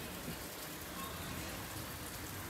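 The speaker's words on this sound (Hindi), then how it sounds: "बहुत तेज बारिश हो रही" Heavy monsoon-style rain pours steadily outdoors, a dense continuous hiss of drops with no pauses or talk over it.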